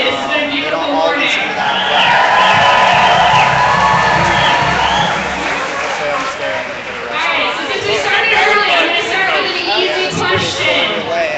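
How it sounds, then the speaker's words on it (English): A crowd at a street rally cheers and whoops loudly, with shouts and raised voices layered into a sustained swell of noise that rises, dips slightly and builds again. "first we need a round of applause for the folks who are hosting today"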